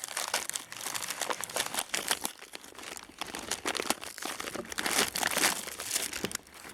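Heavily taped cardboard package being torn and ripped open, a continuous dense run of crinkling, crackling and tearing bursts close up, with no talking.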